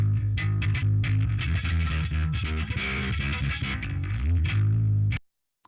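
A heavily distorted bass guitar, reamped through a Darkglass Alpha Omega, plays a rhythmic riff, gritty and loud, before cutting off abruptly into silence.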